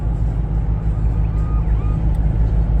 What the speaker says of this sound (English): Definitely has a little bit of a exhaust note to it, but nothing radical,